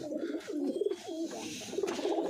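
A pair of pigeons coos nearby in a steady run of soft, rolling throaty calls that rise and fall with no pauses, alone with no talking.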